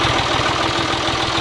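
A tractor engine idles close by, with a loud, steady, rhythmic low chugging and a constant vibrating drone.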